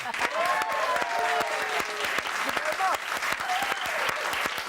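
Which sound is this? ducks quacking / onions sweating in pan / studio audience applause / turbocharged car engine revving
studio audience applause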